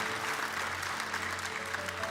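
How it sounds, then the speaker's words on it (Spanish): A church congregation applauds the Lord during an afternoon sermon, a dense, continuous patter of clapping with a low hum running underneath. "Denle un aplauso al Señor esta tarde"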